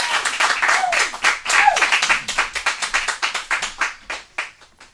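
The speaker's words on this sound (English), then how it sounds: "Please give a round of applause." A theatre audience welcomes a guest with loud, lively applause, dense at first and then thinning into separate, rhythmic claps that fade toward the end.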